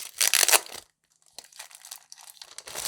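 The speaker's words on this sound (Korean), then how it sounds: "일단 제품을 한번 뜯어볼까요?" Packaging around an A4 pad of 207 g watercolor paper is torn open: a loud burst of crinkling and ripping, a short silence, then softer, continued rustling and crumpling close by.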